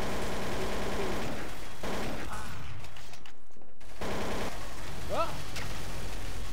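Bursts of gunfire crackle in a shooting video game, rapid shots in clusters that break off and then resume, while a voice speaks briefly over the action.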